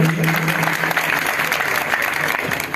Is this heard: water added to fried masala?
no